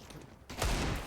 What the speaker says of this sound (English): Rez has shot 2 heads, and it might even be another here as the Plopsky CZ connects